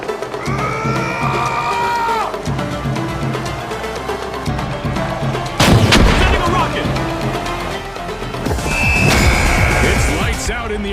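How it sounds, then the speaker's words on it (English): RPG fire in the arena shooter The Finals: loud booms and blasts burst out amid game effects, crowd noise and cheering, with an announcer talking over the action. "RPG fire."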